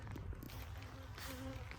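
Honeybees buzz around a crowded hive, a dense steady hum close by with a few brief higher drones passing over it.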